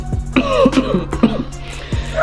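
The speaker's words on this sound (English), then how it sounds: "As you see, like I still have this cough and everything" A person close by coughs and clears their throat several times in quick, rough bursts.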